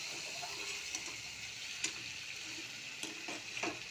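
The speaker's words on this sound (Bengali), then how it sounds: "একটু ভাজা হোক। সব সেদ্ধ হয়ে গেছে, পেঁপে, পটল, আলু সব সেদ্ধ হয়ে গেছে।" Papaya, pointed gourd and potato fry in a pan, with a steady sizzle and several sharp scrapes and clicks of stirring over about four seconds.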